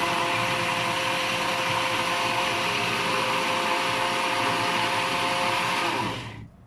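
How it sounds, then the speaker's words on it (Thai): A blender whirs loudly and steadily at high speed blending yogurt, then cuts off abruptly near the end. "ใส่โยเกิร์ตลงไปค่ะ ปั่นอีกครั้งค่ะ"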